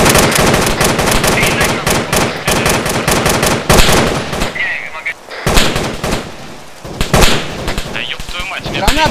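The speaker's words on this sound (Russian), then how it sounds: "Я не пойму, откуда стреляют" Dense, rapid gunfire from rifles and machine guns crackles nearly nonstop in an Arma 3 winter battle guarding a dam, loud and close with brief lulls, while a voice talks over the shooting.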